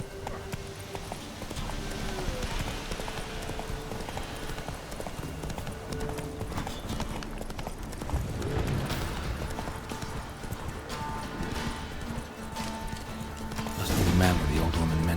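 In The Witcher 3: Wild Hunt on PC, a horse gallops with a steady, rhythmic clip-clop of hooves under game ambience and occasional voices, and a louder crashing burst comes near the end.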